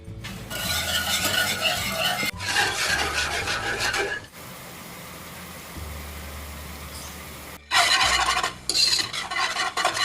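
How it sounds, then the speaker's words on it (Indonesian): A flour and palm sugar mixture is stirred in a pot with loud, rasping scrapes in long bursts. A quieter stretch follows before the scraping starts again. "diaduk sampai semua tercampur rata"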